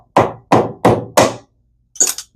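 A cheap deep-well socket is struck four times at a steady beat with the neoprene face of a hammer, driving a gummy bearing out of a vintage D.A.M. Quick Microlite ultralight reel, followed after a short pause by a lighter clatter.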